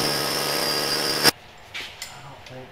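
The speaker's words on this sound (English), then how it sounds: "I'll air hammer around this" A loud, continuous air hammer rattles close by while working on a Jeep, then cuts off abruptly, followed by a few scattered clanks and bumps.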